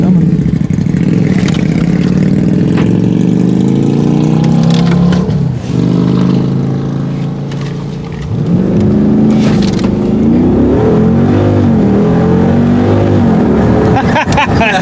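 A car is revved and launched with launch control on a road trip toward SEMA, a loud sustained engine drone with rising and falling pitch sweeps as it accelerates and shifts, heard close throughout.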